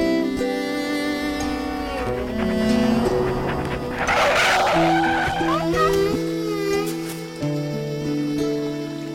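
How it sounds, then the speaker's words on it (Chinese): A speeding car skids on a cold concrete road and strikes someone. Tires squeal loudly, then there is a burst of impact noise and a rough scraping skid, close and intense, with dramatic background sound. "一辆飞驰的汽车把他撞倒了。"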